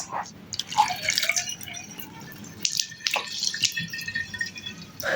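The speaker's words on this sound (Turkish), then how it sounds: "Bunu bunun içine dökeceğiz." Sweetened tea for kombucha is poured through a strainer into a container, giving close, uneven splashing and dripping with a few louder spills.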